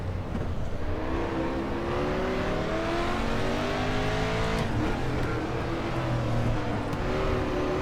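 A 1992 Mustang DTM race car with a V8 engine in the RaceRoom Racing Experience game, at Nurburgring GP, roars steadily throughout as it revs up through the gears, loud and close, with no talk over it.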